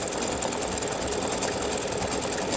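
An embroidery machine stitches free-standing lace Valentine heart earrings, its steady rapid needle hum running loud and continuous throughout, close by with no talking.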